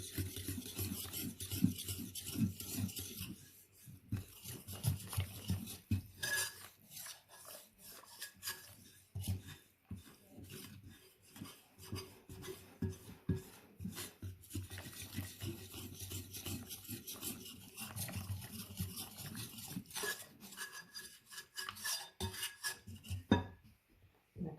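Flour and ingredients for Amish white bread dough being mixed by hand in a bowl, with steady rasping, scraping strokes and occasional utensil clinks across a quiet kitchen, no talk.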